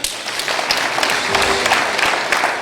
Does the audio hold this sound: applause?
yes